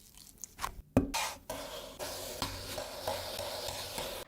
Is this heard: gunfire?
no